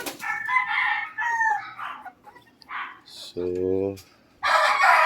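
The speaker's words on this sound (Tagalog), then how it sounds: "ito yung mga 3 months old natin. Mga manok." Three-month-old chickens cluck and a rooster crows loudly, close by, in a clear harmonic burst near the end, with scattered calls and brief speech between them.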